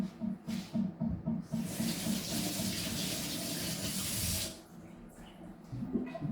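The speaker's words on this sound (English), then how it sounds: "I'm going to take these like super ripe ones, and I need to wash them too" Ripe garden tomatoes rinsed under a running tap, with a steady hiss of water spray in the middle of the clip. Faint handling noises come before and after it.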